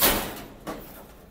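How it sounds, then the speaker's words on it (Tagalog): The door of a pigeon loft shuts with a soft scraping start and then a second, firmer knock, close by, over a steady background hiss. "Sarado natin pinto, syempre baka makalabas eh."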